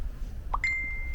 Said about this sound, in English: I forgot to turn off my phone and someone sent me messages right when I was shooting.